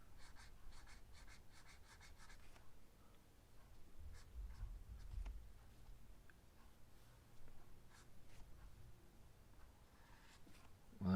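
A pencil scratching lines on paper while sketching a Dungeons & Dragons beholder, with quick rapid strokes at the start, then steady, softer scraping strokes throughout, close and fairly quiet.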